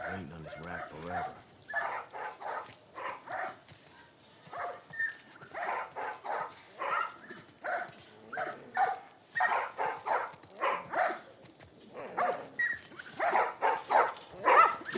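Dogs in The Last of Us Part 1 bark repeatedly in close, choppy bursts, mixed with whimpers and yips. The barking keeps going throughout.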